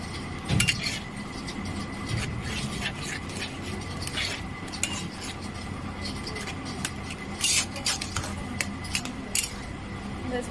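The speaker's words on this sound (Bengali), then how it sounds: "আমি একবার নেড়ে দেবো।" Masala Maggi noodles are stirred in a pot, giving soft, intermittent scraping and clinking of a utensil against the metal, faint and close with quiet pauses between strokes.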